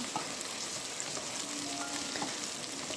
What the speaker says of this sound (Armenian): սկզբում սոխն եմ տապակում մի փոքր, հետո ավելացնում եմ սխտորը